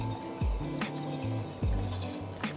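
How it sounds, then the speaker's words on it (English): A whisk works through hot chocolate in a pot over medium-low heat, its metal strokes clinking and scraping against the pan in a few distinct hits over steady background music. "drop the heat, and whisk for 2 minutes"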